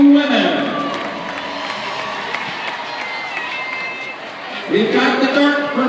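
Large record crowd at the 35th Freihofer's Run for Women race, a steady roar of cheering and shouting with whoops, dipping slightly midway then swelling louder near the end, with an announcer's voice over the top.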